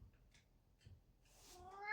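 A domestic cat meows softly a couple of times, close by and faint, ending in a longer, louder rising meow.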